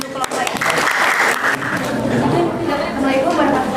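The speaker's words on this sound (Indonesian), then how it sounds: "Kita beri tepuk tangan untuk kelompok ini." Audience clapping for a presenting student group in a classroom, a dense, steady wash of applause lasting throughout, with some chatter mixed in.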